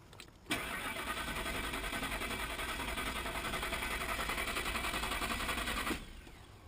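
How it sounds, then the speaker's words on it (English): Ford E250 van engine from around 2001, suspected fuel pump fault, cranking steadily for about five and a half seconds with a fast rhythmic churn that never catches and fires, then stopping. "So the engine turns over, but there's no spark or fuel"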